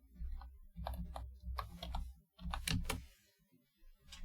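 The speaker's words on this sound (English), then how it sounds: "Am I quick enough to type this?" Quick bursts of keystrokes on a computer keyboard as someone enters an MFA code, several fast clusters of close, crisp clicks separated by short pauses.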